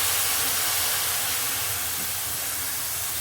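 Water poured into hot oil for brinjal sambar sets off a loud, steady sizzling hiss that holds evenly for a few seconds and then cuts off abruptly.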